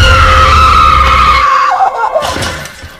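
A woman screams as she runs out of an office in a dramatized story, one long high wail sliding downward and breaking into shakier cries before fading.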